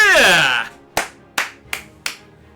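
A voice exclaims briefly, then four sharp, evenly spaced claps ring out alone, each crisp and close.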